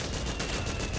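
Gunfire in Metal Gear Solid 4: Guns of the Patriots, a dense, steady wall of rapid shots with no break across the moment.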